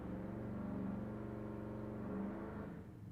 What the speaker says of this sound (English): They're just like revving their engine.